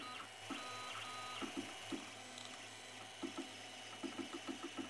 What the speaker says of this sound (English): move the printhead along the X and Y axis to position the nozzle above the 3 knurled nuts of the bed using the control interface of the printer